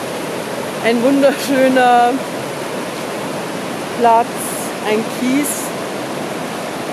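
The Tiroler Achen river near Marquartstein rushes past in a loud, steady broadband roar of flowing water, with someone speaking German briefly over it.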